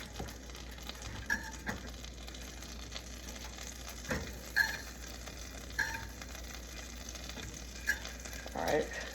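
Sausages fry in a pan with a soft, continuous sizzle, broken by a few scraping stirs and light clicks of a utensil nearby.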